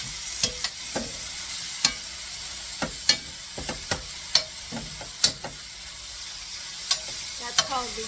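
Mushrooms fry in a pan with meat drippings for chicken marsala under a soft, steady sizzle, while a spoon scrapes and stirs in a string of distinct, close clacks. No one speaks.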